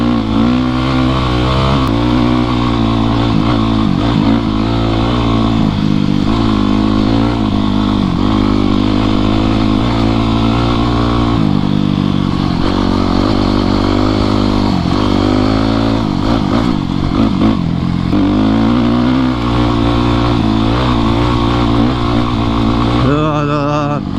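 A dirt bike engine on a ride from the city up into the mountains, loud and close throughout, droning steadily with rising and falling revs and brief shifts.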